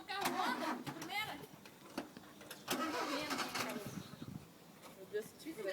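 A car engine runs through a learner's manual-clutch practice, with a mid-pitched hum and brief surges under near-constant nearby talk from several people.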